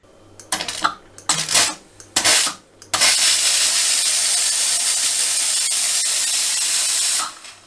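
A VA E1 Prima espresso machine's steam wand lets out a loud, steady hiss for about four seconds, right after a few clanks and knocks of metal parts being handled.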